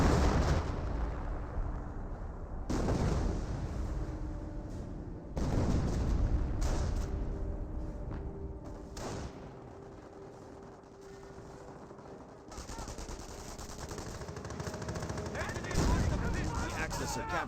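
In Company of Heroes, an off-map artillery barrage pounds the battlefield: repeated heavy booming blasts and rumbling impacts at irregular intervals, mixed with scattered game gunfire while a commentator talks over it.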